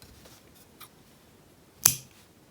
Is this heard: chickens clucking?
no